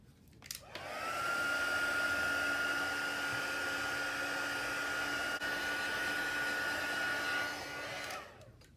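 A hair dryer blows to dry acrylic paint on a journal page, switching on with a click and holding a steady, moderately loud whoosh for several seconds before winding down and shutting off.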